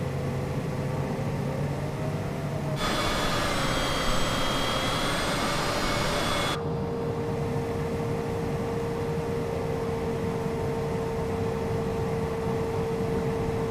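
A Cessna Citation CJ4 jet in Microsoft Flight Simulator hums steadily as it taxis, with a brighter, louder whine for a few seconds in the middle, then a continuous even drone with no talking.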